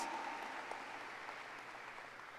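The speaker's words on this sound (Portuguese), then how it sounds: "Você pode aplaudir essa letra aqui, por favor?" An audience at a worship song performance applauding, a steady wash of clapping from many hands in a hall, moderately loud and continuous, slowly easing without fading out, with no talk over it.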